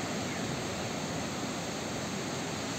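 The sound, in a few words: ocean waves of the Pacific Ocean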